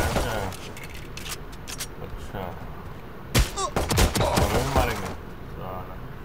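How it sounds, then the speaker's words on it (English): Several sharp pistol shots from Valorant's training range, fired at practice bots in a quick cluster of cracks amid game sounds, with a brief spoken word nearby. "Eliminate the two bots with your pistol"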